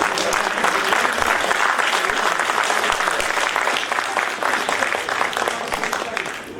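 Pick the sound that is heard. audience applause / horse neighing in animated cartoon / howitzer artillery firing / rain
audience applause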